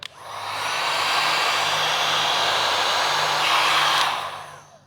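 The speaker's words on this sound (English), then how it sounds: "Now I just switched heat guns out" A heat gun blows steadily while shrinking the edges of vinyl wrap on a car fender: a loud, even whooshing roar that starts abruptly, holds for about four seconds, then cuts off.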